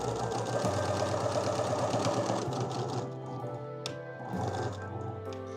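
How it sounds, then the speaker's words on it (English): Sewing machine stitching a pillowcase opening closed, a steady fast mechanical whirring and tapping that slows, pauses briefly and restarts, close and moderately loud. "now I'm just gonna sew this little opening closed."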